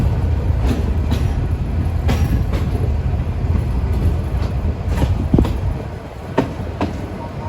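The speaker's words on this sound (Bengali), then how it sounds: "আমরা এখন ছেড়ে যাচ্ছি চাঁদপুর কোর্ট রেলওয়ে স্টেশন, যা চাঁদপুর জেলার একটি রেলওয়ে স্টেশন।" The Meghna Express pulls out of Chandpur Court railway station with a steady heavy rumble and sharp rhythmic wheel clicks over the rails, heard close from on board.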